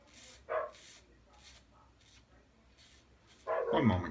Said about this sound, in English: Dog was at the back door barking.